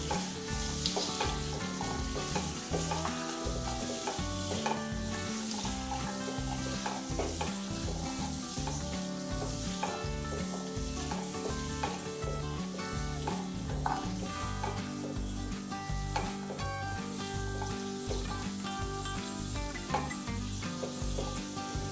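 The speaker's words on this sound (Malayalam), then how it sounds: "ഇനി ഇതെല്ലാം കൂടി ഒന്ന് മിക്സ് ചെയ്തെടുക്കാം" Potatoes fry with turmeric and salt in a pan, sizzling continuously as a utensil stirs and scrapes them in a steady rhythm, close and sustained, alone with no voices.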